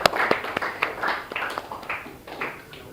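A classroom of students claps at the end of a group presentation, a scattered, light round of hand claps with distinct individual slaps spread over a few seconds, fairly faint, with a few voices mixed in.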